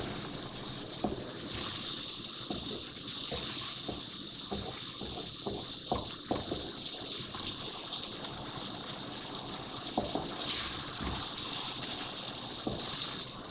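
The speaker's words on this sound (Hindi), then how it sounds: "2-3 टेबल स्पून पानी डाल रही हूँ ताकि मसाला जले नहीं।" Water poured into frying masala in a pan sets off a steady loud sizzling hiss with crackles throughout.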